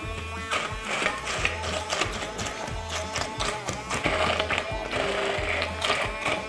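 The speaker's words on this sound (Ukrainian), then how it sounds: "Тепер беремо блендер і все звиваємо до однорідності." Blender pureeing cooked apples with cinnamon into a smooth paste for apple pastila, a steady loud whirring motor with rhythmic pulsing churns throughout, alone without talk.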